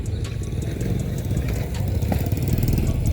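A passing motorcycle's engine putters in a fast, throbbing rhythm close by, loud and steady across the short stretch, with faint clicks above it.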